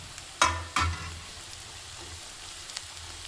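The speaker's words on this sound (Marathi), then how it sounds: "आपला कांदा झालेला आहे, त्यावर लसूण टाकून घेऊ आपण" Garlic being added to softened onions frying in a pan for pav bhaji, giving a low steady sizzle with two sharp clatters of stirring or tipping near the start and a faint tap later.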